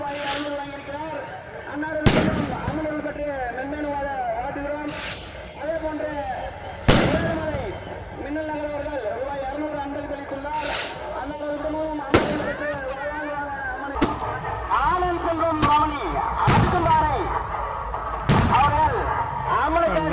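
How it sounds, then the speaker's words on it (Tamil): Country firecrackers burst at a Gangai Amman temple festival in Vellore. Sharp, loud bangs go off one after another at irregular intervals over a steady crowd hum, with someone talking throughout. "பானம் வெடிக்க ஸ்டார்ட் பண்ணிட்டாங்க"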